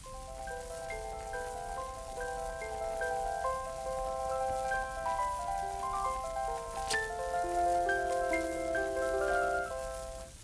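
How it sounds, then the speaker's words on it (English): Plucked, bright harpsichord-like tone from an RCA Storytone electronic piano plays a gentle melody of short, overlapping notes, fairly quiet over a faint background hiss. "here is a harpsichord played on the Storytone."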